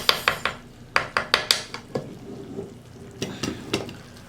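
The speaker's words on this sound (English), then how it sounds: "the butter is already melted. Right now, I'm just letting the vegetables cook." Vegetables cook in melted butter for a seafood sauce, with a soft sizzle under a series of sharp metal clinks and scrapes as a utensil stirs the pot, coming in quick bursts and then more sparsely.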